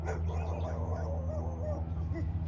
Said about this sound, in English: Hey, puppies!